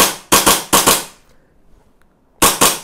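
A BB gun modified for IPSC Open Division competition fires sharp, loud, close shots: four in a quick rhythmic string, a pause, then two more in rapid succession.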